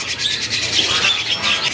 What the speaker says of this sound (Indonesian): Dari kenari seri loper warna cerah ini.